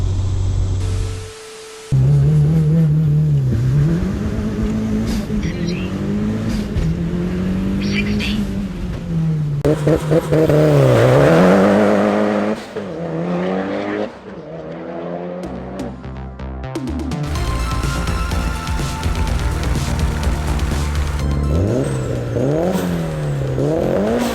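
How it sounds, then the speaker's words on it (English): A Mitsubishi Evo launches hard with all four wheels spinning, its engine revving loud and close, rising and dropping in pitch through repeated surges with clattering and whirring over the top. "4 wheels spinning off the launch."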